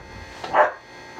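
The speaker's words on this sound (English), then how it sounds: "You hear the dog barking?" A single short bark from a dog in the Atari 2600 game Mouse Trap, an 8-bit sound that rises to one clear peak and stands alone.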